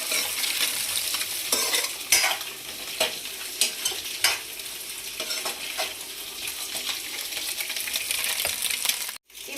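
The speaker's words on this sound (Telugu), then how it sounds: "మిర్చి, కరివేపాకు, ఇంకా బఠానీ, క్యారెట్ కూడా యాడ్ చేస్తున్నాను. ఇప్పుడు హై ఫ్లేమ్లోనే ఇలా మంచిగా ఫ్రై చేసుకోండి." Chillies, curry leaves, peas and carrot stir-fried on high flame for egg fried rice, a steady loud sizzle broken by repeated scraping strokes of a spatula against the pan, with no voices.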